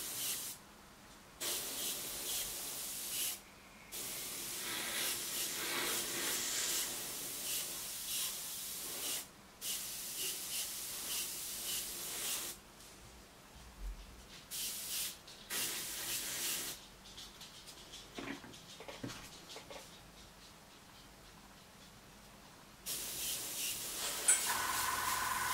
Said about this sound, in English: And I spray that from the bottom.